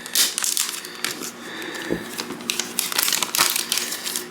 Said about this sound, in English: let's go ahead and take the sticker off